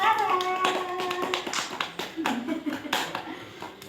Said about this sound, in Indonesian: Beri tepuk tangan buat Mbak Clara.